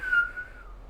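A person whistles a single steady, airy tone close up, slightly breathy and windy, fading toward the end with no talk over it.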